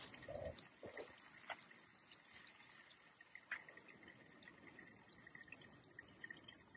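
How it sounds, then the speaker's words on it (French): A small trickle of water runs outdoors at a legendary Breton site, faint and continuous with scattered soft drips and gurgles over quiet surroundings. "On voit un petit filet d'eau là qui coule encore."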